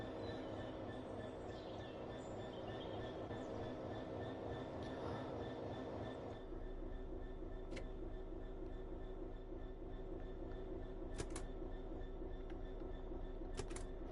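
A train in Train Sim World 4 rumbles past steadily for the whole stretch, its low rolling drone deepening partway through, with a few brief high metallic squeals and clicks near the end.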